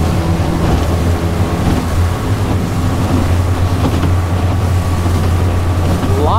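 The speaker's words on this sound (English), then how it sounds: "Now, just some hull slap coming over." A skiff runs at about 20 mph through wind-driven water chop, with a steady outboard drone and irregular hull slaps and splashing under wind noise.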